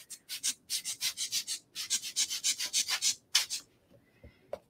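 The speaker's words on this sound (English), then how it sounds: "I'm going to take the blower tool just to kind of mix this around a little bit." Short, breathy bursts from a small handheld blower puff air over alcohol ink on a gel plate, about a dozen quick rhythmic whooshes close up, then a pause and a couple more.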